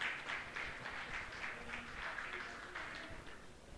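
Church congregation applauding women at a Bible school session on pastoral ethics, a moderate, fairly quiet roll of many hands clapping with a faint voice present underneath.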